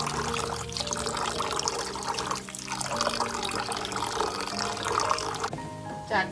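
Squeezed pickled vegetables being washed in water, Thai home cooking: continuous close splashing and pouring, with water sloshing and trickling, ending in a brief sharper rinse.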